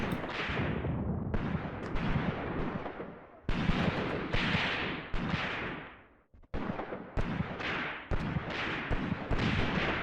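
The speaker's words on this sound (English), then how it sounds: "We are getting some shots off down here." Gunfire and artillery in the WWII tactics game Graviteam Tactics: Mius Front, a run of loud booming shots and blasts, each decaying into a rumbling tail, coming in irregular bursts with a short lull midway.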